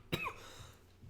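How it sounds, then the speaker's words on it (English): A single short cough bursts out close by, followed by a brief throat-clearing rasp and low breathy noise, during a casual podcast-style chat between two friends. "have a coughing fit"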